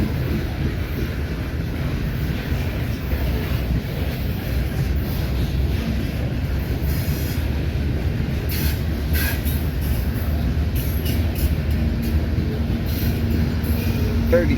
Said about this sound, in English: Alright, here's UP's Fremont local moving some power.